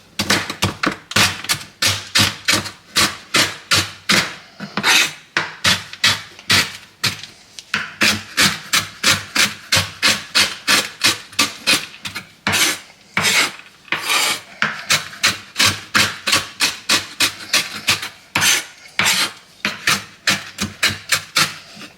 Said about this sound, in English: I'm just going to chop them up on a chopping board and give myself that nice biscuit topping